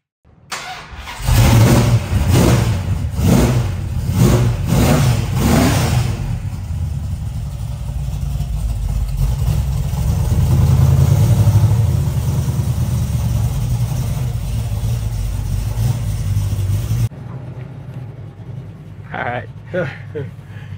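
A 1973 Plymouth Cuda with a built 440 engine of 500-plus horsepower cranks and fires, then revs hard in several loud rhythmic bursts before settling into a steady, rumbling idle that cuts off near the end, with voices faintly heard afterward.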